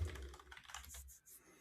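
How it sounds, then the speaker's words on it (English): Keys tapping on a computer keyboard in a quick, soft, uneven patter, close by and faint, with no voices. "I'm just typing in."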